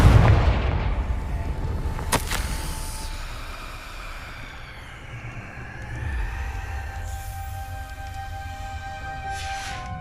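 Confringo fire spell going off in Hogwarts Legacy, a sharp explosive crack followed by a rumbling boom and a long low whooshing tail, loud and close, with no voices over it.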